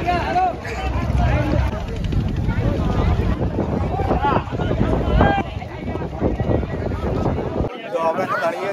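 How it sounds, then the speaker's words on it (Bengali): Ferry launch boat arriving at a Gangasagar river crossing during the mela, engine rumble and water wash mixed with wind buffeting and crowd talk for several seconds, the low end dropping out near the end. "নেক্সট লঞ্চটা আসছে।"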